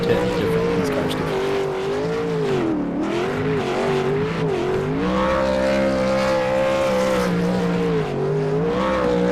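A race car engine in a video game burnout at Daytona roars steadily with wavering pitch, tires squealing throughout, loud and close, with commentary voices underneath.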